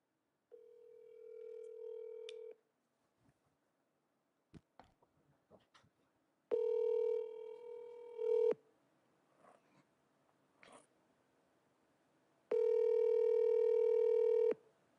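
A telephone call rings out through a handset: three long, evenly spaced ringback tones with quiet gaps between them, faint clicks in the pauses, no talking.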